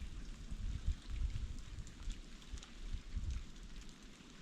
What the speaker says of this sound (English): Uh-oh, it's starting to hail.